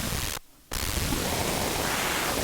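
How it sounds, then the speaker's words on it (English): Steady pink noise from a modular synth random step module, a dense full-band hiss that drops out briefly near the start and then resumes, loud and continuous. "it sort of affects how the pink noise sounds"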